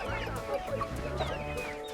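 Chickens cluck at a market stall, close and fairly steady, with short repeated clucks and squawks over a busy background.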